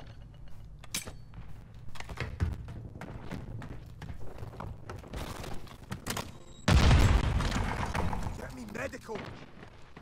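A grenade goes off with a heavy boom partway through a Call of Duty MW3 team deathmatch, after scattered bursts of gunfire, with game sounds throughout and a player talking.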